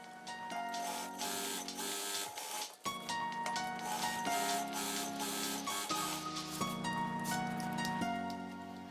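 A sewing machine stitches the inner fabric of a patchwork drawstring bag in close, loud bursts of rapid mechanical whirring, pausing briefly near the middle before running on steadily.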